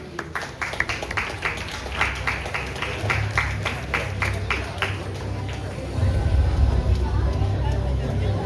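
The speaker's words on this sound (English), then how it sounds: "with a round of applause" Applause and crowd noise fill a conference hall as a guest speaker is welcomed on stage, steady clapping in the first half easing into a louder, denser crowd murmur toward the end.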